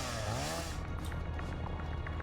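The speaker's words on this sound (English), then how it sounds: "if you use a chainsaw, everything within like a circle of you gets wiped out" A chainsaw in the video game Satisfactory revs with a loud, buzzing whine that rises in pitch early on and then holds steady, joined by scattered short game effects.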